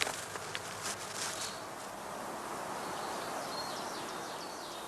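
Honeybees hum around a heather skep hive with old dark combs in a spring apiary. The buzzing is a dense, continuous drone, with a few louder close passes near the start.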